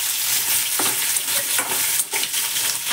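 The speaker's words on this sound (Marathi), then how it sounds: "कच्चाच बटाटा आता आपण असं तळून घेणार आहे।" Raw potato for fasting sabudana khichdi fries in a pan, with a close, continuous sizzle broken by scraping and clacking as it is stirred.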